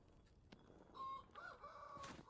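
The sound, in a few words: chickens clucking in the video game Vintage Story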